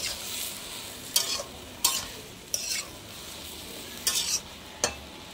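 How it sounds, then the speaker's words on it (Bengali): Greens with salt, turmeric and red chili being stirred in a pan, a soft sizzle broken by about six sharp scraping strokes at irregular intervals, close and clear with no talk. "দিয়ে আর একটু নাড়াচাড়া করে এবার না চাপা দিয়ে দেবো"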